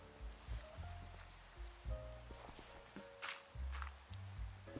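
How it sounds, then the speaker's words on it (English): Rain falling in Minecraft, a soft continuous patter of drops at low level, with plucked blocky game music notes and occasional footstep-like thuds running alongside. "And it's raining."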